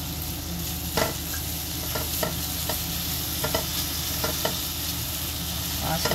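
Grated coconut is stirred into melting jaggery in a pan over a medium-low flame while making narali bhat. Irregular scraping strokes run over a soft, steady sizzle, with no one talking.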